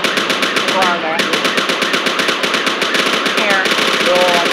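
Gunfire during a police shootout in Washington: rapid, loud automatic bursts rattle in a relentless rhythm, briefly pausing once and then resuming, with faint voices underneath.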